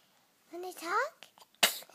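A pet cat gives one short, sharp sneeze near the end, heard close up after a child and an adult speak briefly.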